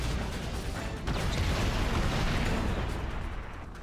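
Continuous deep rumbling booms and crackling blasts from explosions in the PC game Spider-Man: Web of Shadows, loud and dense throughout with no pauses.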